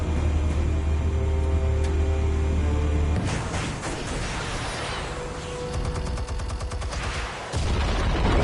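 Dense gunfire and blasts in the Telltale Batman video game, a sustained loud barrage with crackling shots and booming impacts over rumbling noise, shifting midway into a rapid rattling volley before a short cut near the end.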